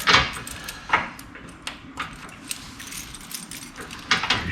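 A bunch of keys for a Ford F-150 pickup rattles and jingles in quick, irregular bursts near the listener, with metallic clinks over a low outdoor background.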